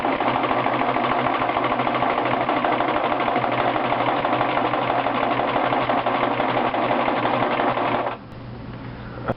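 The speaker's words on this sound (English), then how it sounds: "and then I start sewing." Sewing machine stitching a heavy buttonhole, a steady fast motor hum with rapid needle rhythm running continuously for about eight seconds before stopping, close and loud with no talk.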